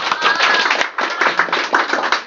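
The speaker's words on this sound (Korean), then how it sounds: "박수 한번 부탁합니다." A small audience at a coaching testimonial presentation gives a brief round of clapping, close and lively, with quick overlapping hand claps rising and falling over a couple of seconds.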